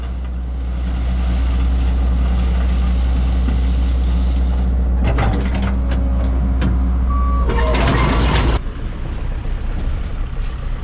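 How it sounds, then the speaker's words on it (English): A dump truck sounds steady reversing beeps while working on uneven gravel terrain, its engine idling loudly underneath, with a burst of louder mechanical noise partway through. "Always amazed at the way that they can drive these big trucks on this uneven terrain."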